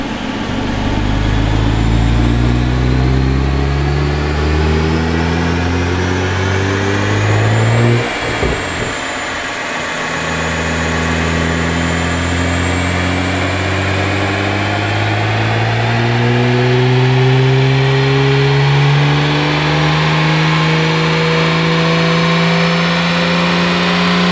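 A BMW M135i engine revs steadily on a dynamometer, pitch climbing, dipping briefly, then rising again in a long loud sustained drone.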